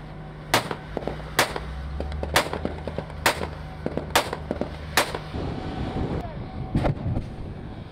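Sharp, booming reports from the Pantsir gun system and Bastion coastal missile system ring out during a naval exercise. Six evenly spaced heavy shots echo over a low background rumble, then a single more distant blast sounds.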